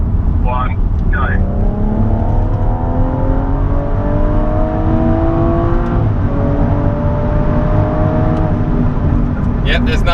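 BMW M135i pulling hard from 40 mph, the engine note rising loud and close in a long climbing sweep, dipping briefly at a gear change before climbing again, with brief voices near the start and end.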